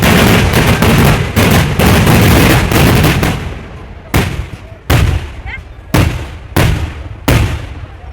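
Rapid volleys of sharp firework blasts at the Kavassery Pooram festival, first a dense crackling barrage, then a string of single loud bangs, each with a short fading tail.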